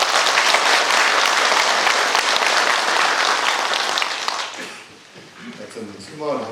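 A crowd claps loudly at the inauguration ceremony for a new president of the Gangjin County Saemaul association, dense applause that fades after about four seconds, then a voice begins speaking.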